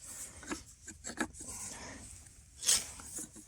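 A hand tool drills a hole through a round piece of wood while building a bushcraft shelter. Several short rasping scrapes repeat close up, followed by one sharper grinding stroke.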